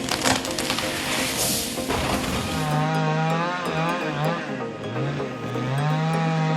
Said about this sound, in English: The work begins, sawing every frond, every heavy cluster of coconuts, with absolute finesse.